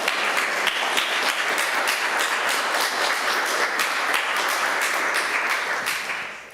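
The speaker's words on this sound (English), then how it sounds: "Could we have a round of applause for our presenter?" An audience gives a sustained round of applause for a presenter at a Sunday forum, even and continuous clapping that holds steady before tapering off at the end.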